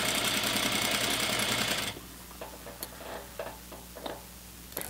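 A sewing machine runs loud and fast, stitching an elastic waistband onto pants for about two seconds, then stops, leaving soft handling clicks and fabric shuffling.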